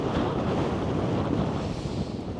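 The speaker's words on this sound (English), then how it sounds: "the wind's coming that way, and I can't have it side on straight to the wind" Strong wind buffets the microphone on a snowy winter hillside in the Brecon area, a loud, steady roar with gusty rumble and no voices.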